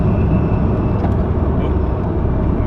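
A Dodge Viper with a manual transmission cruising in fifth gear, its engine giving a steady, loud low rumble with road and wind noise inside the cabin, while people talk over it.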